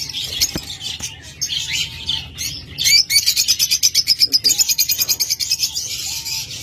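Caged pet birds, lovebirds, budgerigars or cockatiels, chirping close by in rapid high trills and twittering bursts, building to a fast rhythmic chatter in the second half.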